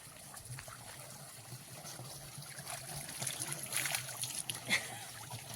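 Water runs and splashes steadily while someone washes hands, feet and face outdoors, a soft continuous trickle with brighter splatters toward the end, heard at close range without speech.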